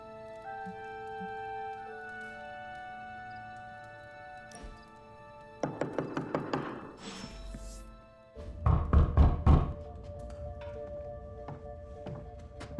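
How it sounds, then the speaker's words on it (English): Knocking on a door in the video game Marvel Midnight Suns arrives as a quick run of sharp knocks and then a heavier burst of thumping, set over a sustained musical game soundtrack. "knocking on my door"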